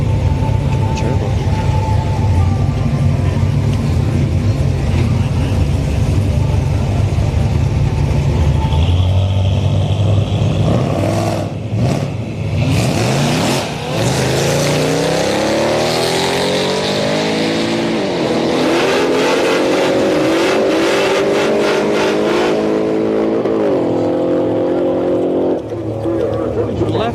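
A Ford 5.0 drag racing an ATSV Turbo on street night at Orlando Speed World: loud, continuous engine roar with revving, then hard accelerating runs with rising gear sweeps, crowd and track noise underneath.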